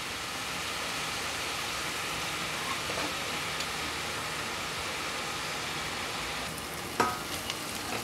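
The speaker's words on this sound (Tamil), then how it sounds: "வெங்காயம் நல்லா வதங்கிடுச்சு" Onions sauté in hot oil in a pan for vadai curry, a steady close sizzle running throughout, with a brief stir or clink near the end.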